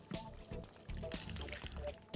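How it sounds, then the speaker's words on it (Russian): Water poured into a pot of stewing pasta and vegetables gives a short, soft splashing trickle with a few drips, close by and fairly quiet, with a little faint background noise. "Добавляю воды."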